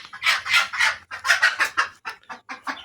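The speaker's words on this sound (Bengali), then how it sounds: "এই যে আমার যে দেশি মুরগি এগুলোর সাথে কিন্তু ওদেরকে আমি মিশিয়ে দিছি।" Desi chickens mixed in with broiler chickens cluck in a steady run of close, overlapping calls in a farmyard poultry pen, with no talk over them.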